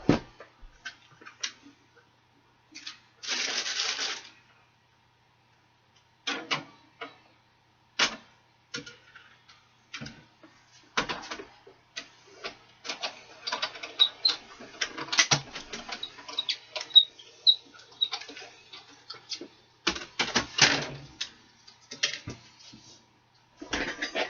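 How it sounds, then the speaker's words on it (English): Die-cutting machine running paper through circle Framelits dies: irregular dry clicks, taps and short grinding rattles, fairly quiet and close, with bursts and pauses spread across the stretch. "Now I'm going to use my circle framelits, and I will be right back. I'm going to go cut this out."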